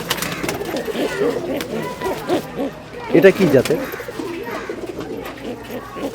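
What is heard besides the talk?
pigeons cooing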